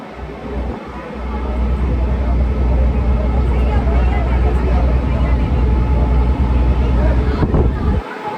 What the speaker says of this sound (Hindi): ये कुछ एक स्टीमर जा रहा है मेरे सामने